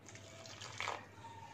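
Lukewarm water is poured into flour for mathri dough in a home kitchen, a faint, brief trickle that swells into a short splash before fading.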